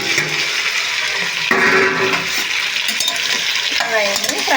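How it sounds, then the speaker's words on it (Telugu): Vegetables for vegetable biryani frying with masala powder in a pan, loud close sizzling with repeated stirring scrapes and bursts of hissing as the mixture is turned, no voices. "ఈ వెజిటేబుల్స్ అన్నీ ఫ్రై చేసుకోవాలి"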